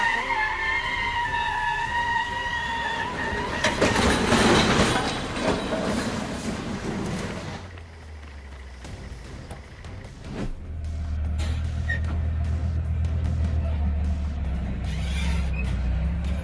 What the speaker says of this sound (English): The massive machine struggles to climb the steep slope, but the weight behind it pulls everything back down.